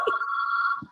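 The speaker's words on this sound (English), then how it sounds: "Grandma's getting a phone call" A landline telephone rings indoors with a single sustained electronic trill, clear and fairly close, framed by brief low voice fragments at the start and end.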